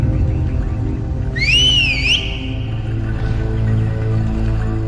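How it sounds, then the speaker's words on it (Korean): A single sharp, rising and falling whistle, a signal to set an army moving in a Chinese fantasy martial-arts drama, rings out over a low steady rumble, lasting under a second before fading. "복년의 휘파람 한 번에 대군이 움직이기 시작하는데"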